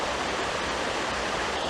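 River water rushing steadily on a Middle Fell hike in the Lake District, a continuous broadband flow close by with no talk over it.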